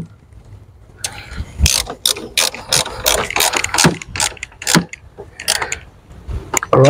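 A hand ratchet tightens the battery terminal on a Ford Focus, giving close, rapid bursts of clicking pawl strokes in an irregular rhythm, with brief pauses between bursts.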